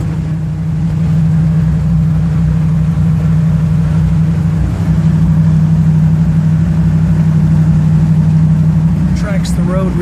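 Cabin of a 1934 Ford three-window coupe on the road, with a steady low engine drone and road rumble throughout, someone talking over it.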